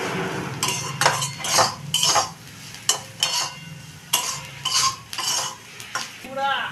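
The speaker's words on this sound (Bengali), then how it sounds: "সবজিগুলোকে আমি অর্ধেক ভেজে নিয়েছি, এবার আমি মশলা দিয়ে বাকিটা ভেজে নেব।" Vegetables half-fried in a pan with ground coriander, cumin, turmeric, salt and chili powder are stirred with a utensil, giving repeated scraping clinks against the pan in an irregular rhythm over a faint background.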